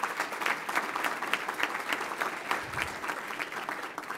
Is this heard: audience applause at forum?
yes